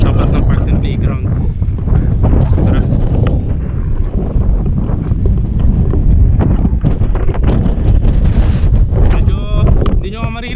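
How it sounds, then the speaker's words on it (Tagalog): Strong wind buffets the microphone outdoors on an open property near Tagaytay, a loud continuous low rumble with gusty surges that nearly drowns everything else. "Medyo hindi nyo maririnig dahil napakalakas ng hangin dito guys."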